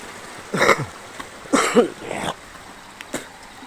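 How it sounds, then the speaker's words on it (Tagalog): Someone coughs outdoors near a riverside forest path, three separate bursts of harsh throat coughing, the first two louder and the last brief and fainter. "Inuubo na tayo."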